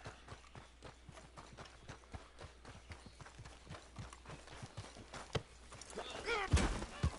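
Horse hooves clip-clop in a quick, steady rhythm within a video game, with a sharp neigh near the end as the pace picks up, and someone talks over the gallop.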